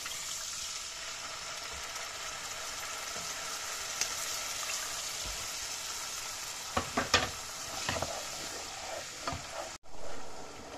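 Risotto rice with cep mushrooms being stirred in a pan after ladles of broth are added: a soft, low simmering hiss, then a short burst of spoon scrapes and wet stirring strokes near the end, fairly quiet and without talk.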